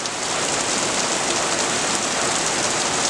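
Heavy rain pours down in a dense, steady hiss with no breaks, close and loud.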